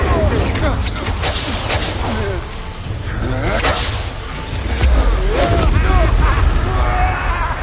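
Incendio fire spell cast in the Hogwarts Legacy video game: repeated whooshing bursts and fiery swishes mixed with game effects, with voices talking over them throughout.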